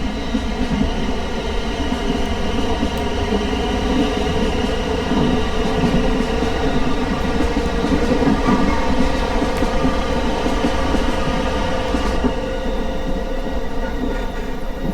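Class 444 South Western Railway electric train running in Train Simulator 2017, a loud steady rolling drone with constant traction hum and rail noise throughout, no talk over it.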